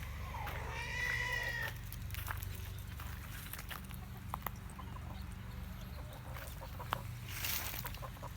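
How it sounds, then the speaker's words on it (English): Appenzeller chickens by a gate give a brief clucking call early on, followed by scattered soft clucks and faint knocks over a steady low outdoor hum. "there are the 2 Appenzeller chickens, right by the gate"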